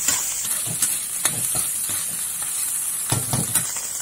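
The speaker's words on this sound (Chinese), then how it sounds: "加入切好的姜末和蒜末，姜末和蒜末炒香" Minced pork stir-fried in a wok with chopped ginger and garlic, with a steady sizzle and repeated scraping and stirring strokes of a spatula, alone and close.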